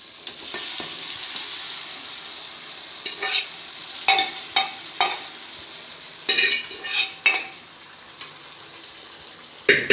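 Mutton chukka pieces fry in a pan, giving a constant close sizzle. Bursts of scraping come as the meat is stirred in irregular strokes.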